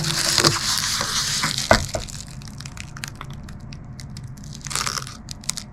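A Scrub Daddy scouring pad scraped across a glass surface, giving a harsh, gritty crunching and scratching close to the microphone, loudest at first with a sharp crack, then thinner intermittent rasps.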